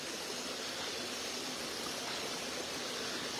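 A stream flows steadily nearby with an even, broad rushing hiss that never lets up, with no voices over it.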